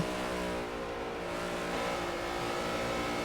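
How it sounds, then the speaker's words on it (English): An RC race car engine at an XRS Cup Series race at Miami RC holds a steady, loud, high-pitched drone that eases slightly as the driver lifts off the throttle, with other engines blending in the background. "Culture needing to lift out of the throttle there because he carried too much momentum"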